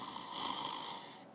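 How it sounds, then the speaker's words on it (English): A person snoring, a single drawn-out raspy breath of steady, moderately loud snore lasting just over a second, heard alone without talk. "You could snore."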